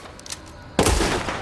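A single Magnum revolver shot from the video game Resident Evil Village cracks out sharp and loud after a few faint clicks, leaving a sustained booming echo that decays slowly.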